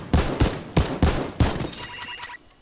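Four sharp, evenly spaced shots from the Infantry Rifle in Fortnite, an M16-like weapon, ring out loud and close, followed by a short run of light mechanical clicks.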